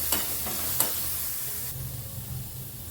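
Onion fries in oil in a pan while being stirred, giving a soft continuous sizzle with two brief scraping stir strokes near the start before the hiss settles lower.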